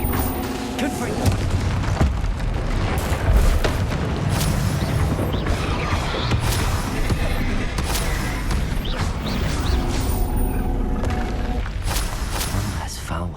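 Confringo fire spell blasts in the Hogwarts Legacy video game, a string of booming bursts and crashes amid dense, continuous combat sound effects at a steady loud level.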